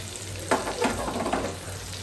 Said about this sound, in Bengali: মুরগির চামড়াটা ভাজি হয়ে গেছে, ওটাই করবে এখন। অনেক তেল হচ্ছে, আর ওটা আমি ভাজি করে নিলাম।